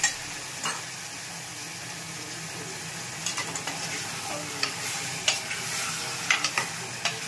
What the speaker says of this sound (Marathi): आता आपण हे अर्धा तास झालंय आपलं मॅरिनेट करून चिकनला ह्याच्यामध्ये टाकूया. परतून घेऊया.